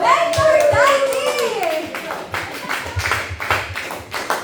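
Audience clapping for a mentor at a forum event, a burst of applause with taps and thumps, while a loud voice speaks over the start.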